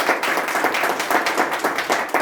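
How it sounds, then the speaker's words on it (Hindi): A church congregation claps loudly and rhythmically in unison, strong regular beats repeating about four times a second, close and forceful with little talk beneath. "जोरदार ताली मारो"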